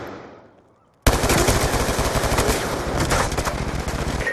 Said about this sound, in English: Search and destroy. Destroy the objectives.